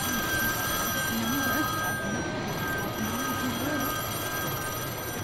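Telephones ringing on a simulated Titanic switchboard in a comedy sketch, a continuous layered trilling of bells under a steady hum, with no clear talking.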